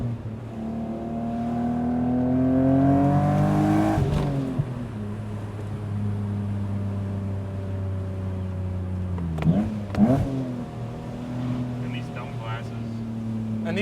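A bright red BMW Z3M Roadster with a 5-speed manual, top down, drives with a loud, steady exhaust drone that rises through the gears. The note drops around shifts and settles into a constant hum under talk.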